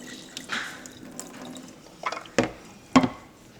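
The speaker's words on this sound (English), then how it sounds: "Going to drain all the water." Hot water is drained from a pot of boiled eggs into a sink, heard as soft pouring followed by two or three louder splashy gushes close by.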